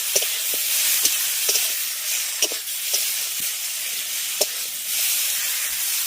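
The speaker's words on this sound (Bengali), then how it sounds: "এবার সমস্ত কিছুকে খুব ভালো করে কষিয়ে নেব" Straw mushrooms with mustard paste sauté in a pan as a steady hissing sizzle, broken by scattered clicks and scrapes of stirring up close. No one speaks.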